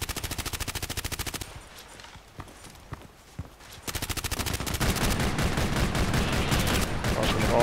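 Machine gun fire rattles in the online shooter Contract Wars, with rapid rhythmic bursts at the start, a short gap of scattered single shots, then sustained loud automatic fire to the end.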